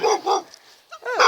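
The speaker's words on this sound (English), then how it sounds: "Getting barked at." A dog barks twice in quick succession, then gives a higher, whining yelp, close and fairly loud outdoors near woods, with quiet pauses between.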